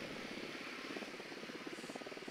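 Helicopter in the video game Ghost Recon Wildlands, a continuous faint rotor drone with a pulsing beat that grows more distinct toward the end.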